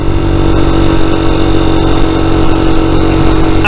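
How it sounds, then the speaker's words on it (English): A motorcycle engine on a hill ride while downshifting early, a loud sustained mid-pitched engine drone with wind rumble, steady and close throughout. "Let's go down a gear nice and early."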